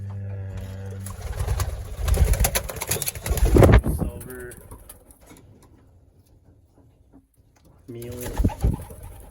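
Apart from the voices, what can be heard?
racing pigeons cooing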